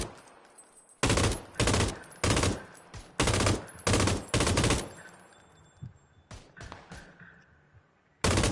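Bursts of automatic gunfire in a first-person shooter game rattle out in loud repeated volleys, several in quick succession, then a quieter spell with distant shots before another burst at the end.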